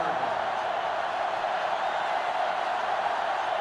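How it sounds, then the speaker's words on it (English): A stadium crowd in the NCAA Football 2005 video game roars in a steady, far-off wash of cheering that carries evenly throughout, with no swells or breaks. "They're really struggling now as this crowd is going absolutely insane."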